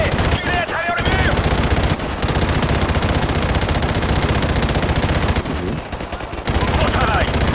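Machine gun fire in the Call of Duty 4 video game rattles in long, loud sustained bursts with short pauses, alongside radio-style voices and game effects.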